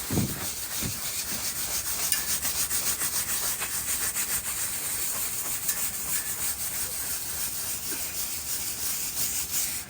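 Lime mortar being scraped out of masonry joints, a continuous rough rasping and rubbing texture with quick repeated strokes, close up and steady for the whole stretch, no talking.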